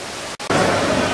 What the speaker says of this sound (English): We're inside where the waterfall goes down.